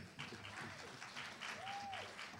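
Warm audience applause at a Chicago mayoral candidates forum welcoming 2nd Ward Alderman Bob Fioretti, steady clapping from a crowd at moderate distance, fairly faint and continuous.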